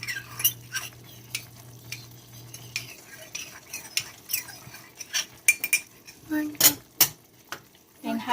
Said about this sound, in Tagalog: tutunawin natin yung cornstarch in 1/4 cup